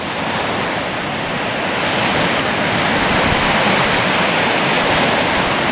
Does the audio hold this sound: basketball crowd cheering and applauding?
no